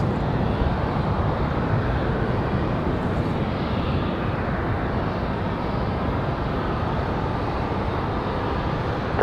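A passenger airplane arrives at Raleigh-Durham International Airport, its engines making a steady, loud broadband roar that holds level throughout without distinct peaks, with no talk over it.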